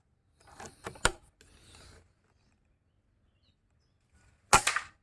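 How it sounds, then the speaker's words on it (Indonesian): Air rifle fired at a paper target: a sharp, loud impulsive crack stands alone near the end, preceded by quieter mechanical clicks and handling noise of loading and cocking. "Tembakan yang kedua,"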